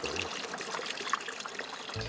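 Water runs from a tap fitted to a household water tank in a mountain home kitchen, a steady close trickle and splash that briefly changes near the end.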